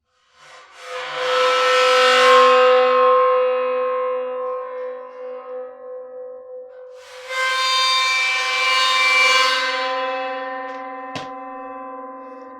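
A small bowed cymbal sings in two eerie, sustained metallic swells with bright overtones, separated by a brief dip, with a short click near the end.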